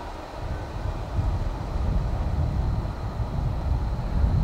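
An IO-17 freight train rolls past in a steady, heavy rumble with a faint high tone above it, fairly loud and close and slowly building, with wind noise and no voices.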